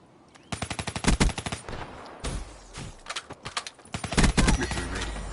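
Rapid bursts of VMP submachine gun fire in Call of Duty, loud and close, coming in several dense strings of shots separated by short pauses.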